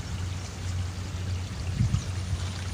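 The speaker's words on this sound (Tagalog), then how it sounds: "bilis yung agos" Fast-flowing river current rushes steadily nearby, a continuous wash of water noise with a low churning rumble and occasional splashes, no voices.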